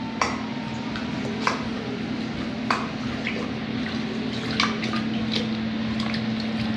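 Sangria being mixed with a cup of water, liquid swishing and sloshing steadily with light clinks of a spoon or utensil against the container, no talking.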